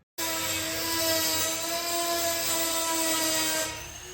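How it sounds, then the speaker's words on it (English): A drill bores holes in a DA Integra during a roll cage install, giving a loud, steady, high whine that starts abruptly and holds for about four seconds with no talking. "the next step would be to drill the holes there, which we're going to do"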